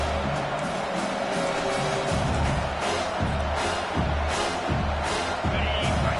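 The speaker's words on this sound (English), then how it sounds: "Here comes this home crowd as the defense tries to get off the field on third down." Home stadium crowd in the college football video game NCAA 25, roaring steadily on a third down with a loud, continuous wash of noise and swelling surges, under a commentator's voice.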